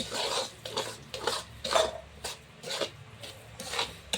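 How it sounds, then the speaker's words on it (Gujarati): Water is stirred into a sweet mohanthal batter made with desi ghee in a pan, giving steady rhythmic scraping strokes of about two per second, close and fairly quiet, with no talk. "આપણે પાણી નાખી અને મિક્સ કરી દઈએ"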